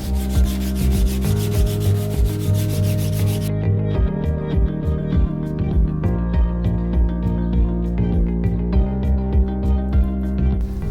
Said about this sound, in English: Then I gave the blade its final surface finish with 240 grit sandpaper